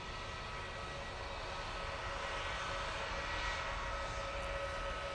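A Jet2 airliner coming in to land, its steady engine roar and rushing air holding at a constant, fairly loud level throughout with no voices.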